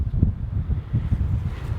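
Steady wind buffets the microphone on a golf course, a low, rumbling gusty roar that stays loud and close throughout.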